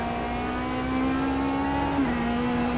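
A race car engine in the Automobilista racing video game holds a loud, steady, buzzing high-rev drone with a slight pitch wobble midway, heard alone.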